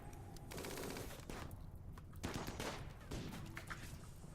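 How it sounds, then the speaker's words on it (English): Gunfire during a colonists' firefight in the game Rimworld: rapid bursts of automatic shots and scattered single cracks, dense and overlapping, with no voices. "Everyone move up and start firing."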